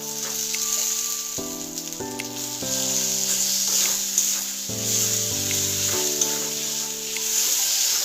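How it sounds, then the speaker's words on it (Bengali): Tomatoes and spices fry in a pan for fish head dal, giving a steady close sizzle with stirring, alone under a faint background melody. "টমেটোটা দিয়ে আবারও ভালোভাবে কষিয়ে নেব।"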